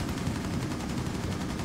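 Rapid sustained gunfire in the tactical shooter Rainbow Six Siege during a team deathmatch on the Presidential Plane map, a dense continuous burst of shots at steady loudness with no talk over it.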